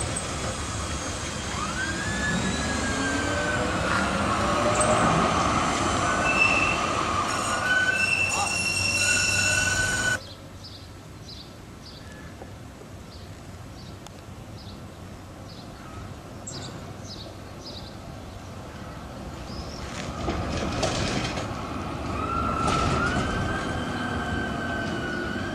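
A train rolls along rails during a triangle turn in southeastern Germany. A loud rumble with squealing wheel tones and shifting pitches gives way to quieter, steadier running and light clicks, then grows louder again.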